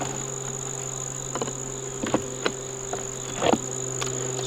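Honey bees buzzing around an open beehive, a steady insect drone with a few louder passing buzzes and light rustling close by.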